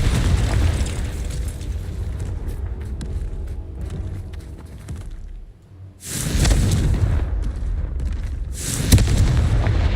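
Explosive spells Confringo and Bombarda in Hogwarts Legacy go off as heavy booming blasts with rumbling tails, one dense run of impacts, a brief lull, then two more loud bursts; no talking.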